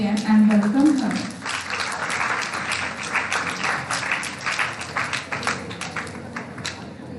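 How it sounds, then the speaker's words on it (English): An audience at an educational session applauds a guest being welcomed onto the dais, a broad patter of clapping continuing at moderate loudness under a brief spoken voice at the start. "Please give her a big round of applause again and welcome her."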